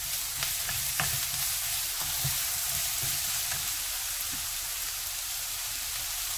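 Paprika and bell peppers stir-frying with oyster mushrooms for a vegetable japchae, a continuous close sizzle broken by frequent clicks and scrapes of a spatula against the pan.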